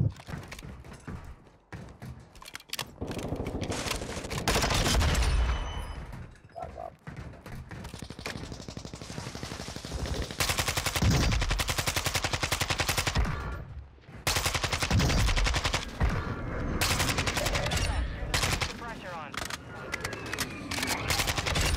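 Rapid automatic bursts from a Vaznev-9k submachine gun in Warzone 2, loud and close, firing in long sustained strings with brief pauses between volleys, with occasional thuds and game sounds between.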